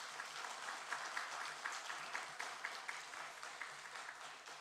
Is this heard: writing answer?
no